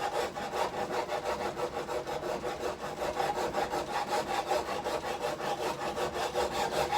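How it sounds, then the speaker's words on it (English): A metal file shapes a metal part in a workshop in steady, even back-and-forth rasping strokes, loud and close with no talk. "you're shaping the metal with the file"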